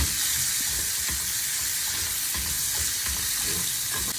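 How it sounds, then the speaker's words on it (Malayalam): Chicken and garlic frying and sizzling in a pan for a homemade chicken burger, a steady broadband sizzle with occasional stirring scrapes and clinks throughout, close and continuous with no talking. "അപ്പോൾ ഗാർലിക്ക് ഒന്ന് കുക്കായി വന്നാൽ നമ്മൾ ചിക്കൻ ആദ്യം ഇട്ട് കൊടുക്കുക കേട്ടോ"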